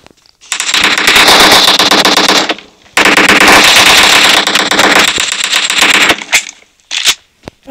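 Rapid automatic gunfire from the video game Brawl Stars, two long sustained loud bursts of rattling shots separated by a brief gap, then a few scattered sharper pops trailing off.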